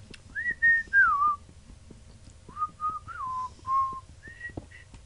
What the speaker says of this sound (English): And now we whistle.